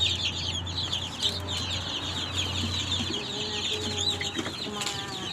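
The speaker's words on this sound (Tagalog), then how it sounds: "So, mag-feeding tayo ng ating alagang chicken." Pet chickens cluck and chatter continuously at feeding time, a busy close flock sound with no talking over it.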